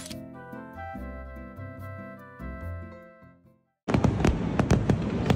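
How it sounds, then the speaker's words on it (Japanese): Fireworks at the Sumida River fireworks festival in Tokyo burst in suddenly after music stops, a loud dense crackle of rapid bangs and pops. "隅田川の花火大会です"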